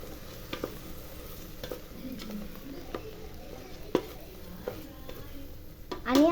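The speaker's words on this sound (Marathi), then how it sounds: "आता आपला खरा लेमन राईस तयार होईल आणि ह्याला आता मिक्स करून घ्यायचं." Rice tossed with lemon water in a pan, soft scraping stirs and light clicks of a spoon over a faint sizzle, close and fairly quiet, ending with a louder clatter; no talk.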